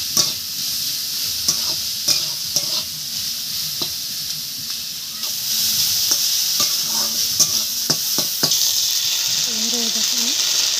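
Chowmein vegetables are stir-fried with turmeric and salt in a pan, with continuous sizzling broken by repeated sharp scrapes and clacks of a spatula at an uneven rhythm.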